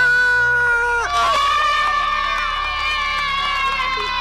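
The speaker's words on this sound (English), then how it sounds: "Earl entertains the kids with a puppet show, earning their applause." Children in an audience cheer and clap for a puppet show, a loud, dense crowd sound that swells suddenly after a second and holds steady, with high excited voices over bright tonal music.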